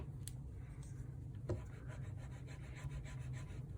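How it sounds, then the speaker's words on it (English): A bone folder rubbed back and forth over a handmade fairy journal cover, giving a soft, steady scraping friction close up, with one brief sharper tap partway through. "just running your bone folder back and forth a few times will help that"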